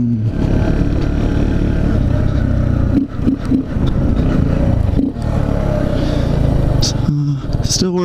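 A Honda Z125 motorcycle lapping a parking lot, its small engine droning steadily with brief dips and revs, close and loud, with some clatter mixed in.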